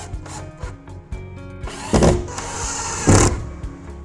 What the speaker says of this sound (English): Drill into place.